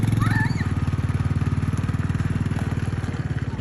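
A motorcycle engine idles and revs with a steady rapid throbbing pulse, close and loud, as the bike shifts into first gear.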